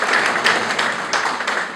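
A congregation in an ADEPR church claps together in a dense, steady round of applause at a memorial service, close and loud throughout with no voices over it.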